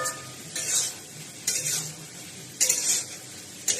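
Soya chunks with coriander powder and other spices are stirred in a frying pan, with about four sharp scraping strokes of a spatula cutting through a low, continuous sizzle.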